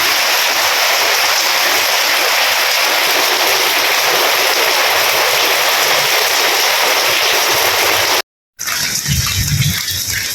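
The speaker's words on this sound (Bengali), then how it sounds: "সকালবেলার বৃষ্টি রে" Morning rain falling in a steady, dense rush of hiss that holds level for about eight seconds, then cuts out briefly before returning quieter and more muffled with a low thumping underneath.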